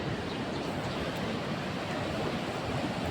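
A swollen river in Mustang, Nepal, high with snowmelt in the rainy season, rushes past in a steady, dense roar of broadband noise with no pauses, close and unbroken for the whole stretch.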